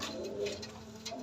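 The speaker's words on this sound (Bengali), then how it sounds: "এই পায়রা দুটো আমার কাছে 2018 সাল থেকে আছে।" A pair of aging fancy pigeons, a male and a female, coo softly on a farm in a low, continuous murmur with a few faint rises.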